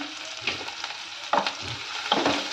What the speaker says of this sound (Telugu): ఈ ఉల్లిపాయ అనేది కాస్త ఫ్రై అయితే సరిపోతుంది మనకు